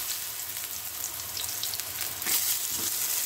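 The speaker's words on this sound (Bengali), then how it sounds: "হালকা হালকা করে শ্যালো ফ্রাই করে বেগুনগুলোকে তুলে নেব" Brinjal slices shallow frying in oil make a steady, close crackling sizzle with scattered pops, continuous throughout and without any voices.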